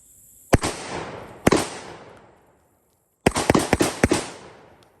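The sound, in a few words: Panzer M4 shotgun rapid firing number 6 birdshot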